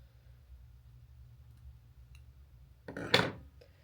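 Scissors trimming stray threads from a small fabric tote give one short, crisp snip after a quiet stretch of faint room hum.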